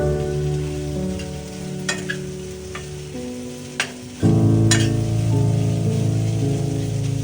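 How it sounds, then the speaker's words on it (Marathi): Sprouted moong and matki sautéing in oil, a steady sizzle with a few stirring clacks, growing louder and fuller partway through, with no voices. "ते चांगलं असं परतवलं जातं ना तेलावरती. चांगलं परतवून घ्यायचं."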